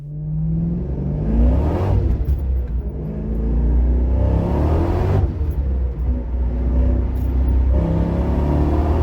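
A Chevrolet C5 Corvette with a manual transmission revs hard, its loud deep engine rising and falling through repeated surges with a rumbling exhaust, close and continuous.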